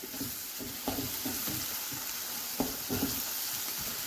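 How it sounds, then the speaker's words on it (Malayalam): Egg being stirred and scrambled in a hot pan for kothu parotta, with faint sizzling under soft, irregular scrapes and taps of a spatula against the metal. "ഈ സമയത്ത് നമുക്കിതിങ്ങനെ ഇളക്കി കൊടുത്ത് സ്ക്രാമ്പിൾ ചെയ്തെടുക്കാം"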